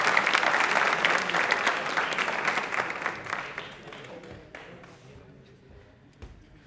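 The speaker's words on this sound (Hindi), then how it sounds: "तालियां हो जाए प्लीज जोरदार" A studio audience at a Doordarshan Rajasthan Hindi Pakhwada question-and-answer programme breaks into strong applause, a full, dense burst of clapping that stays loud for a few seconds, then gradually fades to a few last claps.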